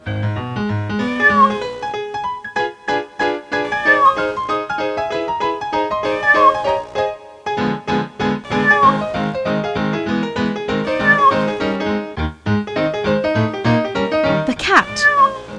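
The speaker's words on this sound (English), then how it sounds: "The housekeeper brought a pet cat from the town." A pet cat meows repeatedly in clear, close, drawn-out cries, some rising into caterwaul-like wails, forming a steady sequence of distinct calls across the scene.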